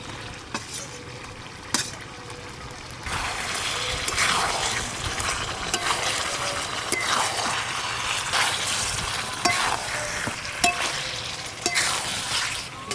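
Fried potatoes are added to chicken kosha simmering in oil, and a soft sizzle swells after a few seconds into a loud, steady frying hiss broken by stirring scrapes and light knocks, with no voices.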